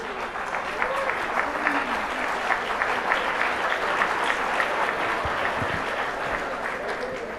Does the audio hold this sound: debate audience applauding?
yes